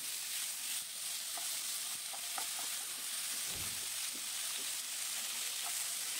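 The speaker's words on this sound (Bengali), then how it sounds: "এইবার আমি সেদ্ধ করা শিমটা দিয়ে দিলাম" Boiled flat beans fry with plenty of garlic in a pan, making a soft, even sizzle with occasional faint clinks and one low thud, steady and close.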